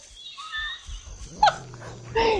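A dog in the video game Shadow Man Remastered gives a few short whimpering yelps and a sharper bark-like cry, close up, with faint game ambience underneath.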